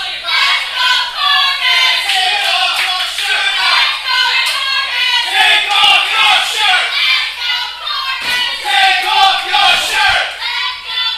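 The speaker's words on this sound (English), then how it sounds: "You hear the crowd getting behind Alex." A wrestling crowd at a Friday night tag team event cheers and chants rhythmically for Alex, loud and close, in repeated surging bursts with clapping mixed in.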